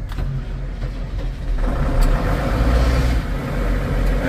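A vehicle engine, on a mule deer hunt, turns over and settles into a steady idle, a close, loud low rumble that continues throughout without any talking.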